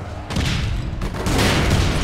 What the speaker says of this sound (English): Oh, it's an automatic weapon, it kind of shoots everywhere.